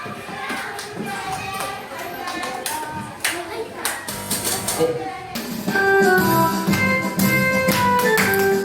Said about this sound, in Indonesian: Jadi sambil tepuk tangan kita menyanyi.